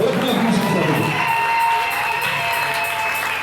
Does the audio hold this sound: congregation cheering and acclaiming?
yes